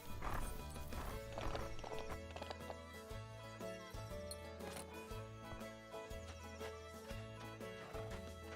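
Horse hoofbeats and a whinny in a ranch video game, heard under steady game music with rhythmic low beats, clip-clop steps and a neigh mixed in at moderate loudness, with no talking.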